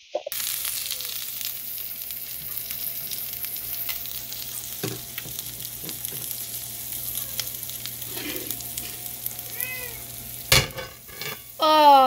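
Homemade hamburger patties frying in a pan hiss continuously at close range, with occasional scraping clicks and a cat meowing a few times near the end.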